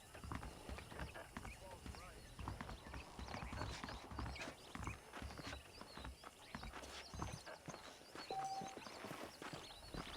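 Horse hooves clip-clopping in Red Dead Redemption while riding, a rhythmic, fairly quiet trot with a snort or whinny, mixed with a man's speech and game background sounds.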